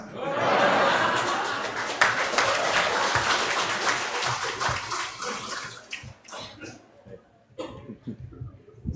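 A congregation applauds three priests during a Catholic Mass celebration in North Sumatra, with dense clapping in a reverberant hall that thins into scattered claps, coughs and a few chuckles.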